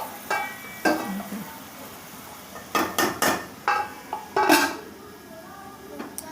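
A metal lid goes onto a cooking pot with several clanking knocks and scrapes, some close together and others spaced apart, loud and near in a quiet home kitchen.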